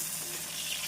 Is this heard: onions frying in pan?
yes